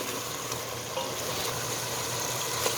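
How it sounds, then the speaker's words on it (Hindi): Mutton frying in separated oil in a pan for a spicy gobhi gosht curry, giving a steady, close, dense sizzle with faint crackles and no talk. "ये देखिए गोश्त का ऑयल सेपरेट हो गया है, ये भुन रहा है अच्छी तरह से।"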